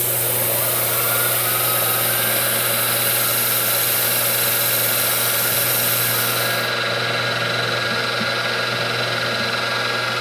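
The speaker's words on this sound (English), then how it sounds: "After first putting the mill in gear." A milling machine in gear hums steadily at close range, a constant motor drone with a high whine that drops away partway through.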